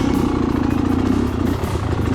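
An enduro motorcycle works along gnarly single track in first gear, its engine a loud, steady, close-up thrum with a pulsing low rumble and some clatter, no talking.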